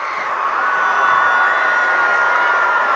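Football crowd at an Oak Park versus Park Hill South game cheering from the stands: a broad, sustained roar of voices and whoops, steady and fairly loud throughout, heard from a distance across the stadium.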